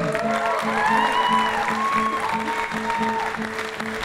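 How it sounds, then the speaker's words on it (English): A concert crowd at a rock show applauds and cheers for a teenage performer, steady clapping and crowd noise under a sustained musical chord and rhythmic low pulse. "Give a round of applause for him."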